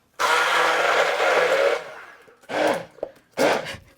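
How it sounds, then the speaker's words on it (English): An immersion blender whirring through curry paste of ground dried spices and shallots, a loud sustained burst of about a second and a half followed by two short pulses. "I'm using my immersion blender, my favorite tool for making curry paste"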